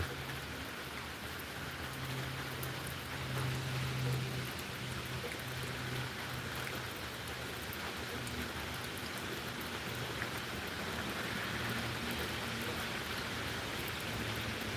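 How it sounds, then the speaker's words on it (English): Steady rain falls through a dark night storm, a dense continuous hiss of drops on surfaces with a faint low hum underneath and no talking. "It's raining."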